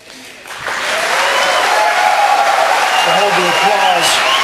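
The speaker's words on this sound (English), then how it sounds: "Hold the applause." Applause breaks out in a presidential primary debate audience, rising from a quiet start into a loud, sustained wall of clapping, with voices talking over it.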